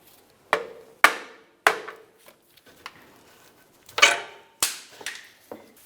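Metal prying on the exhaust manifold gasket of a 2000-2006 Chevrolet Tahoe, reached through the passenger-side wheel well: a string of sharp, close knocks and clicks come at uneven intervals, with quiet gaps between them.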